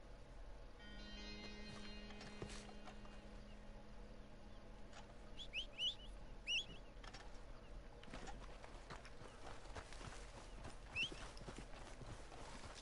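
Video game horse hooves clop in quick rhythmic runs amid a faint outdoor ambience of bird calls, with a brief whinny-like tone early on; the clip is fairly quiet overall.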